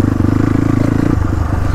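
A dirt bike rides through a stream near Kulekhani. Its engine drones loud and close with a rapid pulsing throb and some clattering, then the tone drops partway through.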